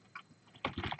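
Keystrokes on a computer keyboard while typing a code command: a soft click after a quiet start, then a quick, close clatter of several keys.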